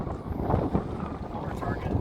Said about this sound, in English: it figures the wind just picks up